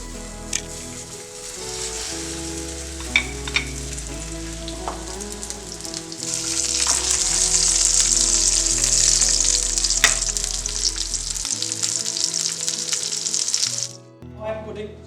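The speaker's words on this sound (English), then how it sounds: "We are gonna sear our patty now." A beef patty sears in a hot pan with a steady, close sizzle. The frying swells louder and brighter midway and holds before cutting off near the end.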